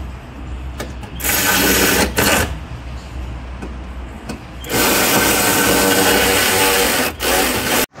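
Battery bracket being fastened on a hybrid Toyota Camry after fitting a Nanex 12V 40Ah 55D 23L battery: close, loud bursts of mechanical ratcheting and metal clicking, with short pauses between runs of wrench work and no talking.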